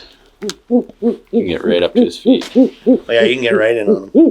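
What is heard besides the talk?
owls hooting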